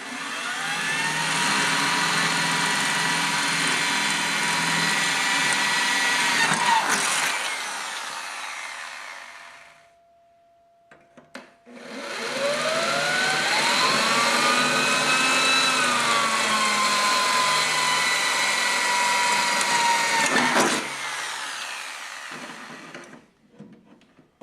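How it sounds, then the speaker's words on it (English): A power drill whirs loudly in two long bursts with a short pause between, its pitch shifting under load as it bores through material. "and drill up through the supports"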